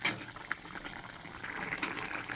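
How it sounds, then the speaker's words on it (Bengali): Raw cooking oil is poured into a pan in a brief, close liquid splash and trickle, with no talking. "তো দেখো, আমি পরিমাণে একটু কাঁচা তেল দিয়ে দেওয়া হলো"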